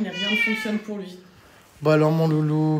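A sick cat gives a long, drawn-out meow, then another louder one, close by, while a person talks softly to it.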